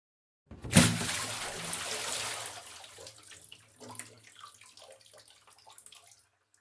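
Water splashes out in a sudden pour in a cartoon scene, a loud gush at first that tapers into softer trickling and dribbles, with no voices over it.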